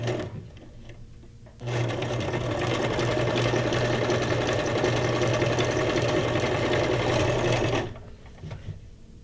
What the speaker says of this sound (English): you can just slap them on the sewing machine and fix them